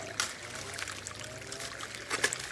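Water pours and trickles softly for watering, a faint, close, uneven splashing with a couple of brief louder spills and no talk.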